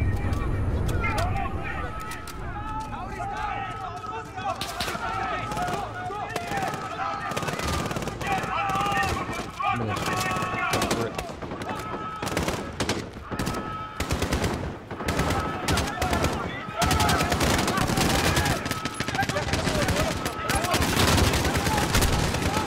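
Sustained gunfire in Call of Duty Modern Warfare, with machine-gun bursts and single shots crackling nonstop over a dense battle din while someone talks under the noise.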